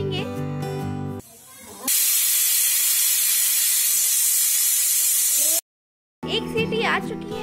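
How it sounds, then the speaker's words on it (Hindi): A kitchen pressure cooker whistle lets off steam in a loud, sustained hiss of several seconds, with music before it and after a short silence. "एक सीटी आ चुकी है, अब गैस बंद कर देंगे"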